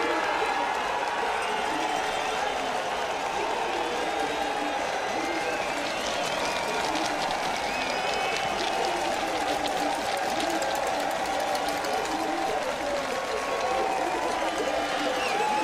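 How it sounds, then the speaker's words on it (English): A crowd cheers and applauds the cyclocross world champion at the race finish, a dense, steady roar of clapping and voices that holds throughout without letting up. "the crowd greeting the world champion"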